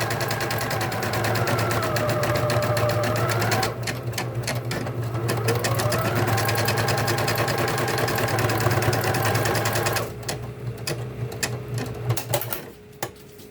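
A Bernina Deco 650 computerized embroidery machine stitches a design with a fast, steady mechanical rattle and motor hum, loud and close, pausing briefly partway through before resuming, with no talking.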